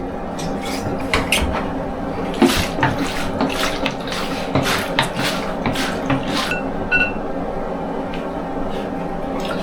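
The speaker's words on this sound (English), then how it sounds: "I'll pour out the fixer into this." Film fixer solution is poured out during home film developing, a running liquid pour with clinks and knocks of containers and utensils throughout, fairly close and loud.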